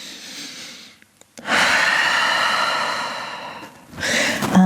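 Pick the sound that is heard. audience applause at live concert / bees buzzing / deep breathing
deep breathing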